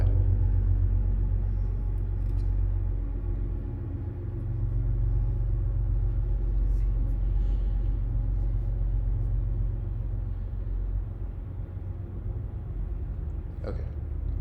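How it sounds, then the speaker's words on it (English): A train rolls past close by, a loud, sustained low rumble that holds steady for the whole stretch with no one speaking. "I live right by a train, so it's gonna get really loud for a little bit."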